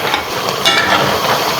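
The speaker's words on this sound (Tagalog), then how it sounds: "Ating siyang hahaluin uli." Creamy ginataang manok with papaya being stirred in a pot, a steady close wet simmering and sloshing with soft bubbling and scraping throughout.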